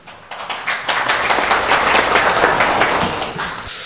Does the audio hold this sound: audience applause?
yes